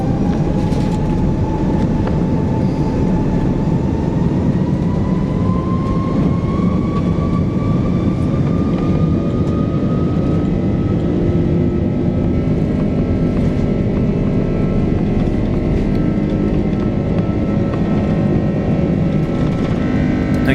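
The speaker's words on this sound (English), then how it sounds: "Lining up on the runway, about to take off." A Turkish Airlines Airbus A330 jet on its takeoff roll at Cape Town: a loud, steady roar of engines and rumbling cabin noise, with a whine slowly rising in pitch as the aircraft accelerates, no voices.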